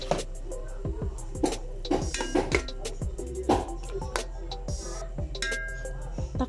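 Several metallic clanks and clinks of a lid and pot handled on a stove while cooking amaranth and eggplant, irregular knocks close by with a low background hum.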